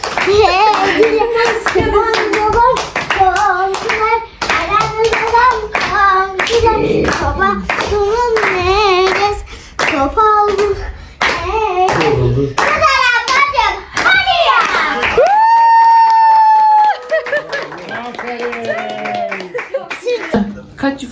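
A family claps hands together at a celebration in a steady, lively run under overlapping talk that includes a voice. A brief tonal jingle rings near the end.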